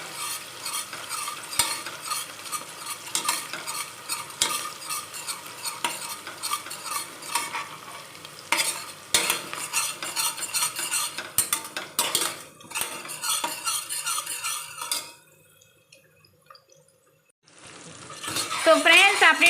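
Onions fry in a pan for khichdi while a spoon stirs them. Constant sizzling runs under frequent metallic scrapes and clinks of the utensil, and a brief lull comes near the end before the frying noise returns.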